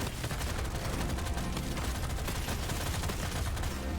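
Explosion grenades burst over and over in Deep Rock Galactic Survivors, a dense, loud, crackling barrage of rapid blasts layered with the clatter of constant gunfire.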